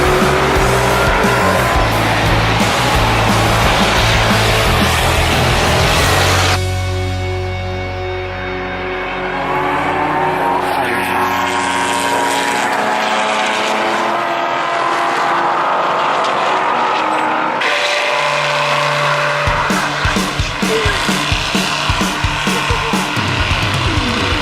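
Powerful cars rev hard and squeal their tyres through a burnout competition at Powercruise, a loud sustained roar with screeching rubber that dips briefly before the engines wind up again.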